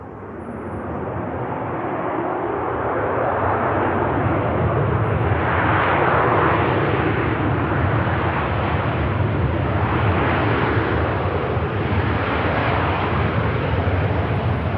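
A Ryanair jet landing at Manchester Airport, a broad engine roar that swells in and holds loud and steady for over ten seconds, with rumbling low end and a hissing wash.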